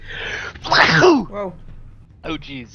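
A single loud sneeze bursts out close up, and a short exclamation from another voice and brief chatter follow it.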